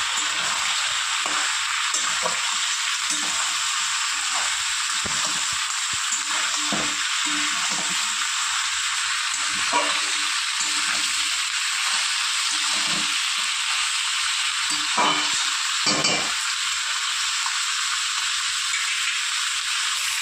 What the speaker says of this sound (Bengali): ভালো করে সবজিগুলো একটু নাড়িয়ে ভাজা ভাজা করে দেবো